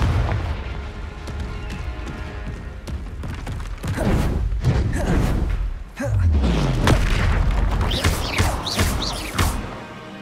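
Fiery Confringo spell blasts explode during a troll fight in Hogwarts Legacy on PS5, with a series of heavy booms and thuds arriving at irregular intervals amid game effects and brief voices.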